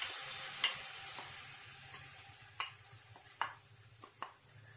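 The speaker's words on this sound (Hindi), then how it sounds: "इसके अंदर मैं डालूंगी अपना अदरक लहसुन का पेस्ट" Ginger garlic paste frying in hot oil in a pan, a quiet steady sizzle with a few light clicks and scrapes from stirring. No talking is heard.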